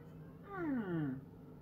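A single drawn-out house cat meow rises and falls, close and fairly clear against a quiet room, lasting under a second.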